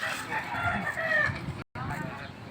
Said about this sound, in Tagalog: Yan ang manok.